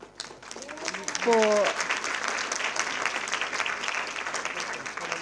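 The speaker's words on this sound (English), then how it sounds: "a big round of applause" Audience at a women in media and communications panel discussion breaks into applause, a dense steady clatter of clapping that continues under a brief spoken word.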